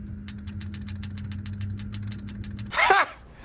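A bad lifter ticks in the 5.3 LS engine of a 2011 Chevrolet Suburban: quick, regular metallic taps sit over a low idling hum, then a brief louder burst of sound ends the clip.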